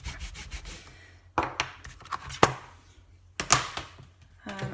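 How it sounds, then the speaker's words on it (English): A rubber stamp is scrubbed clean on a Stampin' Scrub pad sprayed with Stampin' Mist: several close, quiet bursts of brisk rubbing separated by short pauses, with no talking. "clean off my stamp using the Stampin' Scrub, which I've already sprayed with some Stampin' Mist"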